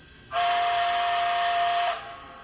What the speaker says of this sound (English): longhorn, long whistle.